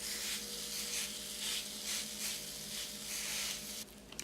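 Vegan potato patties sizzle steadily on a heated griddle, a continuous broadband crackle with gentle pulsing swells, close and moderately loud, with no voices.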